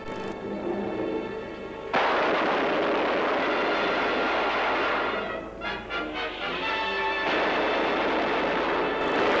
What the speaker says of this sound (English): Machine guns.